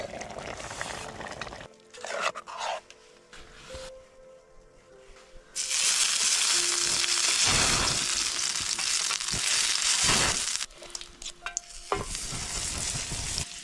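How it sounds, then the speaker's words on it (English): Fresh Alaskan scallops fry in garlic butter inside a tent during a winter blizzard, first with quiet stirring and scraping, then a loud, steady sizzle that comes and goes as the pan is handled. "Cranberry couscous and scallops cooked in garlic butter."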